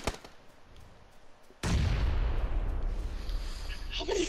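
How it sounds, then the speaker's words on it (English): A grenade explosion in the PUBG video game, a sudden loud blast after quiet ambience, followed by a long rumbling decay and scattered faint sounds. "Whoa, Garrett, I threw a nade over there."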